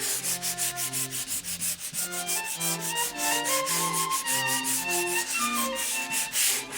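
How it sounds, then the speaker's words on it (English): Sandpaper works dried spackle on a bedroom wall in a steady back-and-forth motion, a continuous close rasping scrape with a quick rhythmic pulse, heard alone. "I'm just going to sand down those feathered areas"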